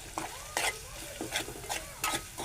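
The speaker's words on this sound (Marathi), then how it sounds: "कांदा परतून घेऊ आपण" Onion sautéing in a pan for a spicy Marathi ridge gourd stir-fry, with steady close sizzle and repeated sharp scraping stirs of a spoon against the pan.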